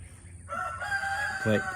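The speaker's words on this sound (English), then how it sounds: "here's that goddamn rooster coming around" A rooster crows close by outdoors on a homestead, its long harmonic call rising through the clip and peaking at the end. Faint ambient noise sits underneath.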